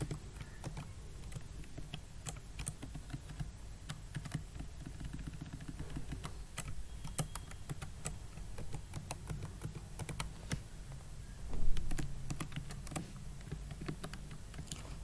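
Keys clatter on a computer keyboard during a Java programming tutorial, with steady, quick taps and copy-and-paste shortcut presses running throughout over a low background hum.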